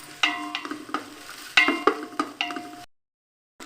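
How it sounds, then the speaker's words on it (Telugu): Onion and carrot pieces fry in a pan, heard mostly as a series of close spatula scrapes and metallic clinks over a light sizzle, breaking off abruptly into silence near the end. "ఉల్లిపాయ ముక్కలన్నీ కాస్త వేగనిద్దామండి. ఇవి వేగిన తర్వాత క్యారెట్ ముక్కలు వేస్తాము."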